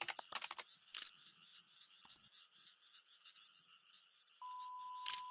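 Frogs croaking in the horror game Japan Stigmatized Property, scattered sharp croaks near the start and again near the end, with a faint steady tone entering late.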